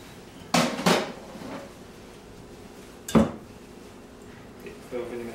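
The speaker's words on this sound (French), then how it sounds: "Quand on a mis les ingrédients, on mélange bien." Spoon clanking against a bowl while sugar pie ingredients and maple syrup are mixed, a few sharp knocks in small bursts separated by quiet pauses, close up without speech.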